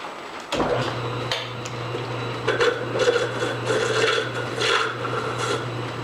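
A small, quiet South Bend lathe squares off a shoulder on a steady rest part, giving a steady low motor hum under a close rasping cutting scrape that wavers throughout.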